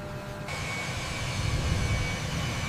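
Private jet engines run during a first ground test on the runway, making a steady, loud, broadband roar with a high whine layered on top, with no talking.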